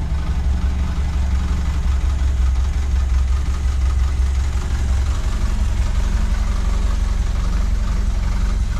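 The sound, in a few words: car engine idling with rattles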